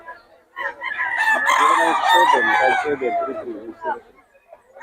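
Chickens cluck and a rooster crows loudly and nearby, with voices talking through much of the sound.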